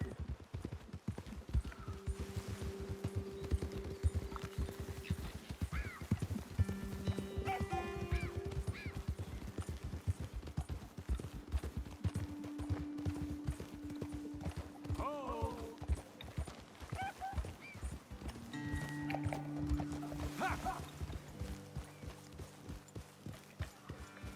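Horse hooves clip-clop steadily at a walking pace in Red Dead Redemption 2, close and clear, with soft background music and occasional voices.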